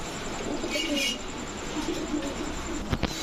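Bagha breed pigeons, a matched male and female pair, give soft low coos amid steady background noise, with a brief flutter or knock near the end.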